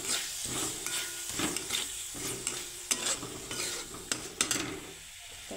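A spoon scrapes and stirs a spicy masala, seasoned with salt, as it sizzles in a pan for a potato rassa bhaji. Repeated close scraping strokes sound over a steady frying hiss, with no talking.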